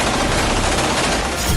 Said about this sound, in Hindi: हमास के लड़ाकों ने इजरायली डिफेंस फोर्स पर ताबड़तोड़ फायरिंग